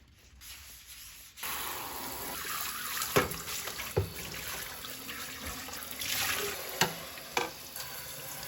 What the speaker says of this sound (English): the first step is to wash the chamber set